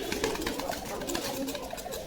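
Desi fancy pigeons cooing at a bird market, soft repeated coos half-buried in a dense, noisy background of crowd murmur and activity.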